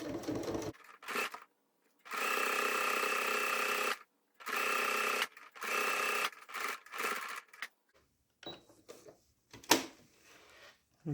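A sewing machine runs a regular straight stitch down the seam of a fabric zipper bag, in several loud sustained bursts separated by pauses, then quieter handling clicks and rustles toward the end.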